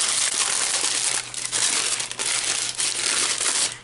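Tissue paper is crumpled and poked down into a gift bag, close-up crinkling and crushing in continuous bursts with a few brief pauses, no voices.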